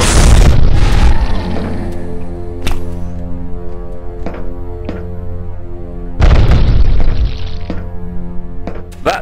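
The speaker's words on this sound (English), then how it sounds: "That cynical just tossed in a grenade right on top of you." Loud booming grenade blasts in the video game E.Y.E. Divine Cybermancy: a heavy explosion at the start and another near the middle, each fading into a ringing tail over steady game music.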